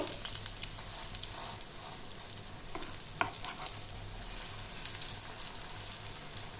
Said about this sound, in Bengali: দুই পাশটা লাল লাল করে আমি ভেজে নেব